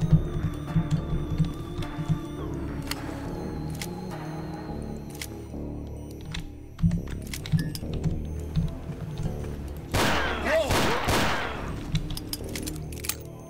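Gunshots in the video game Ashes 2063, a few sharp cracks scattered over low droning ambience, with a louder cluster of shots near the end.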